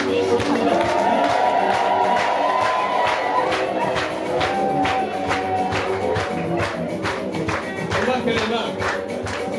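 Crowd at a wedding claps steadily while high, wavering ululation trills ring out over it, loud and sustained throughout, with shouting and chatter mixed in.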